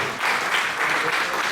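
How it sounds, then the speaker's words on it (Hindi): A lecture audience in India applauds to welcome a speaker: a brief, steady wash of clapping at moderate loudness. "तालियों से"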